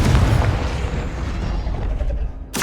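A Confringo fire spell from Hogwarts Legacy lands as a deep, booming blast that rumbles and fades over a couple of seconds, ending with a sharp burst at the tail.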